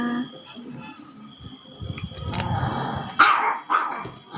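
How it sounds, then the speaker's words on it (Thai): Dog barking close by indoors, a few sharp barks with growling between them, and someone talking at the start. "เอ้ยเห่าอะไร"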